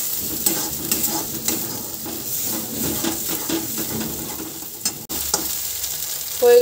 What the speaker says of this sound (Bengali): টমেটো লঙ্কা ভেজে নিলাম, এবার দিয়ে দেবো ডিমটা, হয়ে গেল ডিমের ভুজিয়া